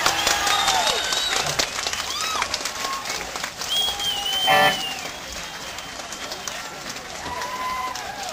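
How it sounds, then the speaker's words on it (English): A concert audience at a 1974 show in Cambridge, Massachusetts claps and cheers, with steady clapping, scattered whistles and crowd noise throughout, loud and close. "Keep clapping if you want us to play anymore."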